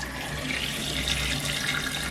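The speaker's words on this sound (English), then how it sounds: "We're going to put the cold water in now." Cold water gushes from a kitchen tap into a sink, a steady close hiss of running water that stops abruptly at the end.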